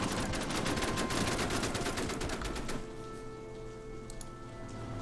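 Rapid bursts of gunfire from units in the Order of Battle war strategy game, US Marines campaign, crackle densely for nearly three seconds and then stop, leaving a quieter steady hum.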